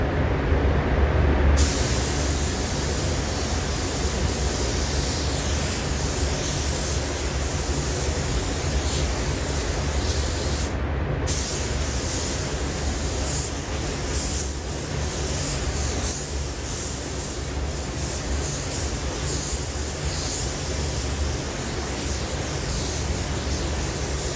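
Continuous broadband hiss of a spray gun laying a third coat of paint on parts of a Harley-Davidson CVO during a color change, a steady rushing spray that runs near and unbroken with no talk.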